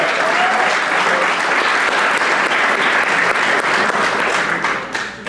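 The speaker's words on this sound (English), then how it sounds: "give a round of applause for that" An audience at a high school boys basketball banquet claps in loud, sustained applause that fills the room and fades slightly at the end.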